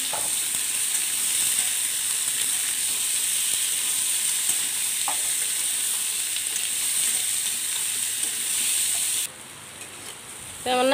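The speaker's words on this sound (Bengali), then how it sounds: "মিঠাই নাইটা ভাইজে নিব।" Mithai nai frying in oil gives a steady, dense sizzle close by, continuous for about nine seconds before dropping quieter, with a brief faint squeak at the very end.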